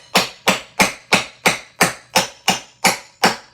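A pry bar is driven into the wooden frame of a double twin king-size Murphy bed during teardown, making about ten sharp, evenly spaced knocks roughly a third of a second apart. Each blow is loud, close and cracking, with a short decay.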